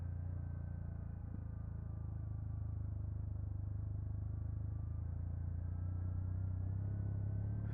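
A motorcycle engine drones steadily on a rough mountain road with sharp turns, a constant low rumble that rises slightly near the end, with no voices.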